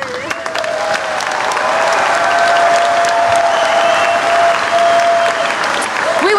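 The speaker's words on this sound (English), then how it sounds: "You may now applaud." Loud sustained crowd applause at the opening ceremony of a wheelchair games event, broad dense clapping swelling and holding steady, with a faint sustained tone running beneath.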